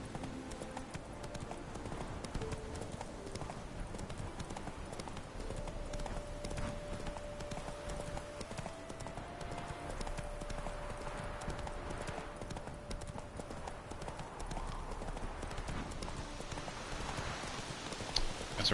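A horse gallops in The Witcher 3: Wild Hunt with a fast, steady clip-clop of hooves running throughout at moderate volume, joined by a faint sustained tone and brief rustles.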